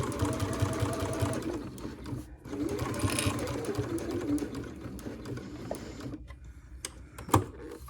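Sewing machine stitching a crossbody bag, a steady close mechanical whir of rapid stitches that pauses briefly, then runs on before stopping near the end with a few handling knocks.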